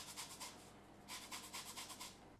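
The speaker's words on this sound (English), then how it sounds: "I just want to add a little bit of orange zest into there" Orange zest is grated into cookie dough in soft, quiet bursts of rhythmic scraping, two clusters of short strokes separated by a brief pause.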